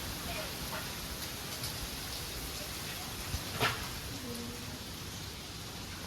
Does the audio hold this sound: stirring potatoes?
no